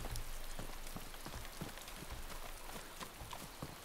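Steady rain falling in the video game DayZ Standalone, a dense, faint patter of drops on surfaces with scattered louder taps, continuous and unbroken.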